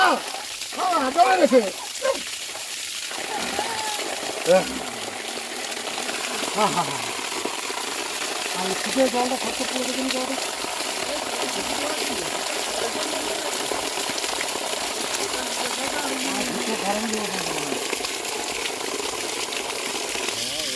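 Water gushing from a newly installed home water supply, a continuous rushing hiss that holds steady throughout, with a few knocks and clunks early on and voices speaking over it.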